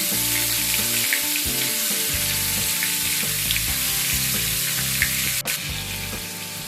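Slices of a large onion fry gently in hot oil for a thin shrimp curry with potato and eggplant, giving a continuous broadband sizzle that sits under steady melodic background music, with a brief sharp knock near the end.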